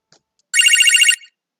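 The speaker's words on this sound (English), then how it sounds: "Oh, the telephone is ringing." A single short electronic telephone ring in the video game Manamon 2, a bright trilling burst lasting about half a second, loud and alone against silence.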